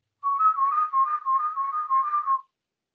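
Whistled warble made with the tongue pushed forward, a bright wavering tone rapidly alternating between two close pitches in an unbroken run of a bit over two seconds, close and clear with no talking.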